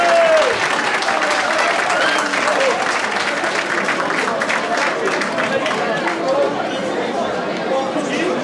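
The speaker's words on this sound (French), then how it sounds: "On applaudit bien fort." An audience at a starred charity dinner event in Aulnay-sous-Bois bursts into sustained, loud applause, dense clapping mixed with crowd chatter that fades slightly toward the end.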